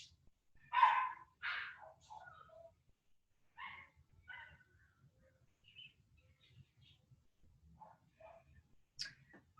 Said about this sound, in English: I don't know what's up with the neighbor dog today.